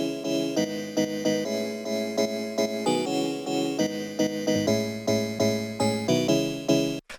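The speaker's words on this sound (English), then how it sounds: "So it's basically one of these live bell samples" Live bell sample layer from a Gen Z hard house track, a steady run of bright, ringing metallic hits with rapid repeated attacks and shimmering overtones, loud and unbroken.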